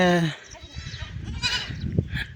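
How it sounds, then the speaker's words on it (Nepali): Goats on a rural roadside in Surkhet, Nepal bleat nearby, one loud bleat at the start followed by fainter bleats in the background. Outdoor ambience and people's voices fill the rest. "हजुरकै बाख्रा आउने नि सबै?"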